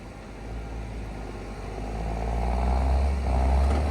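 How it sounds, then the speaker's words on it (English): A Claas Xerion tractor in four-wheel drive hauls a trailer out of a ditch, its deep engine rumble swelling steadily under load and growing louder and heavier toward the end, with no voices. "The Xerion's going to pull straight forwards on that angle"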